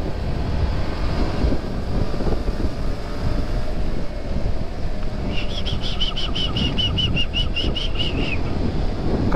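Wind blows steadily along an outdoor village street, a constant broad rush that stays loud throughout, with a rapid run of bird chirps joining briefly in the later part and no one talking.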